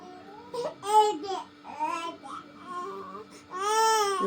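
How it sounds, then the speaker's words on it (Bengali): A young girl cries and sobs in short wailing bursts with whimpering between them, close and fairly loud, in a bathroom after dipping her hand in hot water. "তুই যত খুশি কাঁদো"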